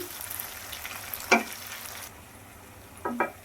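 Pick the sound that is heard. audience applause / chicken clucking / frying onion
frying onion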